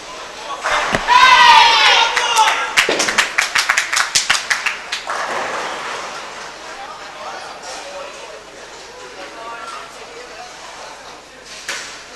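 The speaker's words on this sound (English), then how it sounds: "big cheer for Mark" Spectators at a senior open bowls championship in Malta burst into a cheer followed by a run of sharp, rhythmic claps that fade into murmuring crowd noise and nearby chatter.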